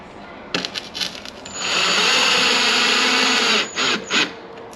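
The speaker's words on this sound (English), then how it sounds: "now we can go ahead and get all of our screws put in place" A power drill drives screws into parts of a Cadillac CTS-V Sport during a CTS-V conversion kit install, with a few short taps and clicks, then a loud, close, sustained whir lasting about two seconds, followed by two brief bursts.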